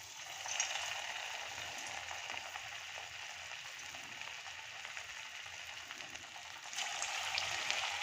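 Cauliflower pakoras fry in hot oil over low gas, giving a faint, steady sizzle and crackle with a slight rise in intensity near the end, no voices present.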